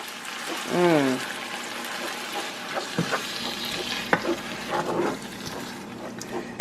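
A spoon scrapes and stirs a chili cheese dog casserole in a hot pan, producing soft sizzling with scattered clinks and scraping taps. A voice speaks briefly at the start.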